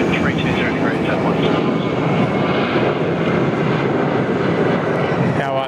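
Singapore Airlines flight 232 taxis south on taxiway Alpha at Sydney Airport, its jet engines giving a loud, steady roar throughout while people talk over it.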